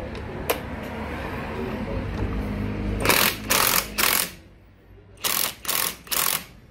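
Ratcheting and clicking from a wrench tightening a 19 mm nut on the clutch assembly of a Honda Benly 110 scooter, with three short loud bursts of ratcheting after a quieter stretch of handling noise, close to the mic.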